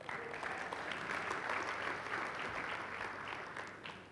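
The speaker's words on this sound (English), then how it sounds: "I need clapping for that, please." Steady audience applause at a Google tech talk, many hands clapping together in a dense, even wash that holds for several seconds before easing slightly at the end.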